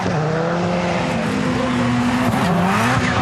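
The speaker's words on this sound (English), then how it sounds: "listen to the anti-lag specifically on the Beetle, which has always had that mega loud engine" A Volkswagen Beetle rallycross car at the 2019 World Rallycross of Sweden qualifying roars with a loud engine and anti-lag, its pitch rising and dipping through gear changes, mixed with other race cars and crowd din under commentary.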